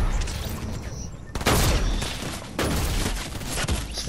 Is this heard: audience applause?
no